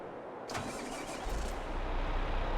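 A tractor engine cranks and fires up in Farming Simulator 22, a short starter burst followed by a low rumbling idle that settles in and grows steady, heard alone without speech.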